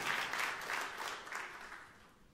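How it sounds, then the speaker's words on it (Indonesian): A room full of people clapping loudly, the applause rolling in waves and then gradually fading away. "Tepuk tangan yang meriah untuk kemuliaan Tuhan."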